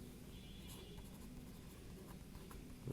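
Pen scratching on paper while working a class 8 math exercise, a quiet, continuous scribbling texture under low room noise, with no talking.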